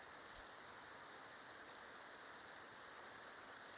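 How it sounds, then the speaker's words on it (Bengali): Heavy rain falls steadily in a soft, even wash of drops with no pauses, heard quietly from a household setting. "আল্লাহ কতক্ষণ থাকবে এই বৃষ্টি।"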